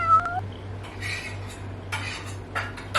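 A cat meows in a hotel room, a short close call near the start followed by quieter clinking of cutlery or dishes and a steady low hum in the room.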